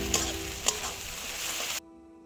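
Ginger and garlic paste fries in hot oil in a pan and is stirred, with a close steady sizzle and a couple of light scrapes before the sound cuts off abruptly.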